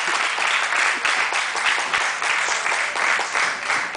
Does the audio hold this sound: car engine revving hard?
no